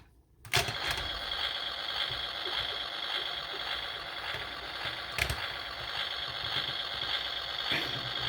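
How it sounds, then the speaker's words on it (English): After a brief silence, a continuous electronic engine-rumble sound effect from a 1993 G2 Megatron toy vehicle, activated by pressing a wheel, starts and runs steadily, with a couple of short clicks partway through. "if you're rolling the vehicle along and you press down on this wheel here, it activates engine noises"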